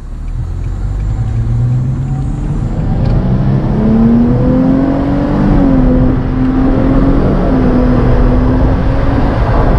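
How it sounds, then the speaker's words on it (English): A 2013 Nissan Maxima SV engine revs loud and close, a steady smooth drone rising in pitch and holding high, with a slight dip partway through, heard from inside the car. "this car actually does sound pretty nice, and it almost does sound like a 350Z"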